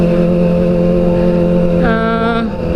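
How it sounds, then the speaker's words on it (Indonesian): A Kawasaki ZX-25R motorcycle with an aftermarket exhaust idles loudly with a buzzy, raspy exhaust tone, then briefly revs higher before settling back down. "Agak malu sih dilihatin orang gara-gara knalpotnya berisik begini."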